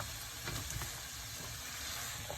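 Vegetables sizzle in a pan over a high flame while cooking pasta, a steady close hiss with faint clinks of stirring.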